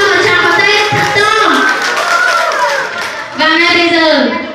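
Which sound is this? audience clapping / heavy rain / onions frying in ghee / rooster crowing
audience clapping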